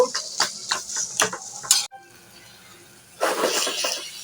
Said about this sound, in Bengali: এভাবে ভালো করে নেড়ে চেড়ে মিশিয়ে নেব